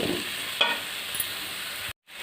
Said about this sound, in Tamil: இந்த மசாலா ஃபுல்லாக நல்லா இந்த பூசணிக்காயில் நல்லா அப்படியே ஃபுல்லாக அப்ளை ஆகிற மாதிரி நீங்கள் நல்லா பெரட்டி விட்டுக்கோங்க